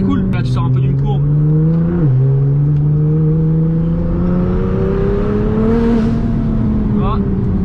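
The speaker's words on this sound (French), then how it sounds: "tu mets un peu de gaz et là, ça glisse un peu" Inside a Nissan GT-R accelerating and sliding through a curve, the loud engine drones steadily with a slowly rising pitch and one brief dip. Someone talks over it throughout.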